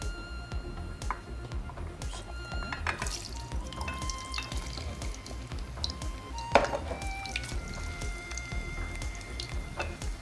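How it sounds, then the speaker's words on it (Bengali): Potatoes dropped into hot olive oil and frying in a studio kitchen, producing a crackling, spattering sizzle with clicks and small pops, moderately close, with faint background noise and no clear talk. "তেলটা গরম হয়ে গেছে, আমি আলুগুলো দিয়ে দিচ্ছি"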